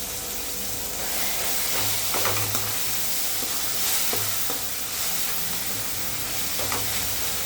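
Tomato and onion sizzle steadily in a pan for chicken fry, with a dense continuous hiss broken by occasional stirring scrapes, close and fairly loud with no talk.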